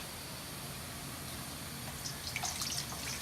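Salty water drained from sliced daikon pours out in a soft, continuous splash, with a few brighter trickles and drips near the end; no one speaks.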